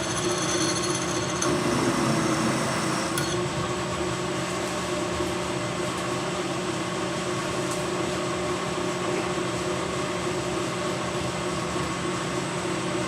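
A machine tool bores aluminium on a dividing head setup, making a steady whirring hum with a brief brighter cutting whine near the start, running continuously at moderate level.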